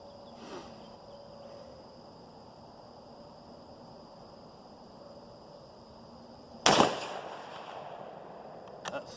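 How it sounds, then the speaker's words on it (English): A 6mm Remington rifle firing a Hornady 75 grain V-Max round at the range: one sharp, loud shot cracks after a quiet stretch of faint background hum, then a small click follows. "shoot another round here of the 40 grain"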